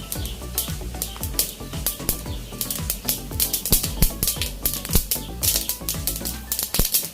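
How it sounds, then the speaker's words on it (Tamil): Mustard seeds and urad dal spluttering in hot oil in a clay pot while tempering for thoothuvalai rasam, a dense rapid crackle of sharp pops close up. "கடுகு பொரியுது."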